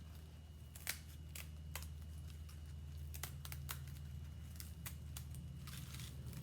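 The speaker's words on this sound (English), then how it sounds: "And then you just can use regular scissors to cut these letters out." Regular scissors cutting out paper letters: a faint series of irregular crisp snips, about a dozen spaced over several seconds, over a steady low hum.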